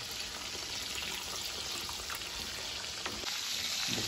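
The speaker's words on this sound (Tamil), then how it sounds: "சேம் டைம்ஸ் குழம்பும் கொதிச்சுக்கிட்டு இருக்கு" Quail gravy bubbling in a pot on a home stove, a steady close hiss and simmer with faint bubbling throughout, no voices.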